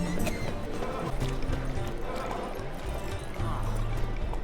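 Roach the horse gallops in The Witcher 3, hooves clip-clopping rapidly and steadily up close, with a short whinny and a faint voice underneath.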